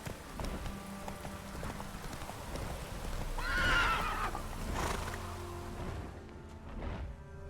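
Roach, a horse in The Witcher 3, trots with steady clip-clop hoofbeats and gives a loud, rising whinny midway, set against a faint low game ambience.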